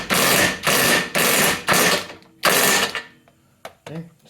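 A wrench tightening bolt-in subframe connector bolts on a third-generation Camaro: four rapid ratcheting bursts, then a fifth after a pause, close and loud, followed by a few faint clicks and knocks.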